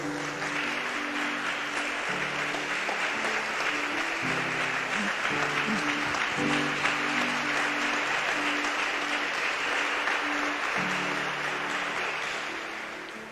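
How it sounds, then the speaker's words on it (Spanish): A church congregation applauds steadily and loudly for over twelve seconds, with a sustained organ or keyboard chord progression playing underneath before the clapping fades at the end. "Denle un fuerte aplauso a Dios por eso."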